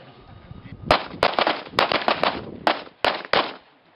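Gunshots fired at a target during a shooting seminar drill, a rapid series of about nine sharp, loud cracks in quick pairs and clusters, close by and with no speech between them.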